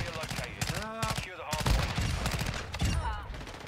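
Rapid gunfire in Call of Duty MW2, loud bursts of shots mixed with someone talking excitedly over them throughout.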